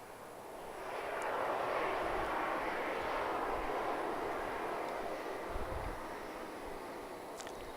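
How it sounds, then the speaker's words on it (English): A private jet arrives on runway 13 left at Dallas Love Field, its engine roar swelling to a broad steady rumble at moderate distance and then easing slightly, with no talk over it. "Get another private jet arrival here on 13 left."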